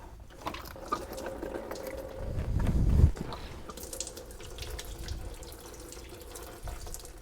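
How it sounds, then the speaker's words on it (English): Antifreeze drains from the radiator of a 2012–2017 Jeep Wrangler 3.6L into a container, a quiet steady trickle that swells into a heavier gush around the middle before settling back. "Now with the drain open, it may kind of go slow at first."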